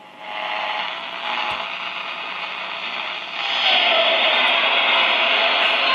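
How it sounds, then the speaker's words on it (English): A 1964 Emerson model 899 pocket transistor radio plays steadily, giving a thin, hissy broadcast sound with static that rises in level partway through, heard close up with no talk. "Alright, let's hear the radio play"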